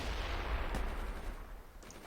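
Gunfire in the World in Conflict Soviet Assault campaign, Mission 7 against insurgents: a dense, continuous wash of distant rattling shots and rumbling battle noise, moderately quiet, with no voices over it.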